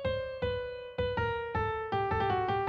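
Input melody for Adobe Project Music GenAI Control, a simple tune of separate plucked or struck notes with rich harmonics, about eight notes in a steady stepping rhythm, clear and alone with no talk.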